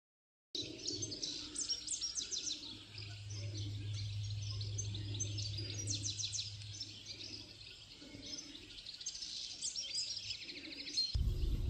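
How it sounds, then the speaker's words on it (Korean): Birds sing and chirp steadily in a German biosphere reserve along the Elbe river valley, several high twittering calls overlapping throughout, with a low rumble underneath and a soft outdoor background. "꽃씨가 흩날리고 새소리가 들려오는 순간을 잠시 멈추고 귀를 기울여 보았습니다."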